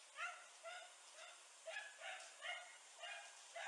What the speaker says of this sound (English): Oh, there's another dog, that's why.